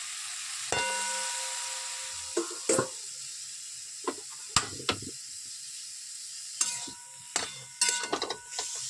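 Softened tomatoes for a tomato and star fruit chutney are stirred in a pan, a steady sizzle and hiss broken by several sharp scraping and clacking strokes of the spoon, close and fairly clear with no talk.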